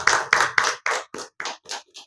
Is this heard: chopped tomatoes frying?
no